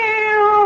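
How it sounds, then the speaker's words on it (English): A cat meows once in a radio drama sound effect, a loud, close, sustained tonal cry lasting under a second with no talk over it. "It's the cat. She's back."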